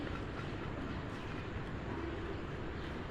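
Passenger train on the Bhuj to Rajkot route rolling along rails, a dense steady rumble and rattle from inside the carriage with faint clickety-clack, constant and loud for the whole stretch.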